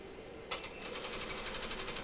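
A sewing machine stitches a seam on a bathing suit, starting abruptly and running at a fast, even, rhythmic pulse close up, with no talking.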